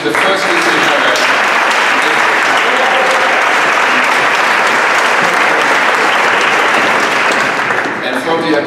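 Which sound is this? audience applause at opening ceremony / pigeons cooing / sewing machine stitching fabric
audience applause at opening ceremony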